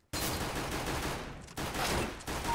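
Sustained automatic gunfire in the video game CS:GO: loud, close bursts of rapid shots that cut off briefly twice before resuming, with no talking.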